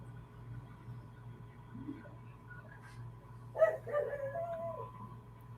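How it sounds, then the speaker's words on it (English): A dog gives a brief whining bark, a single rising vocal burst heard mid-clip over a low steady indoor hum, moderately close and not loud. "You're gonna bark, aren't you? You just gotta bark."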